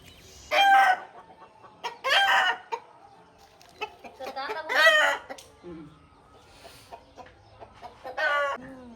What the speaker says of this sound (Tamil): உள்ள சேவலா கோழியா இருக்குது? சேவல்னு இருக்கு, கோழி இருக்கு.